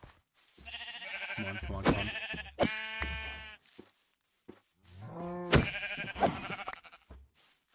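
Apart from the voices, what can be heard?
sheep bleating in video game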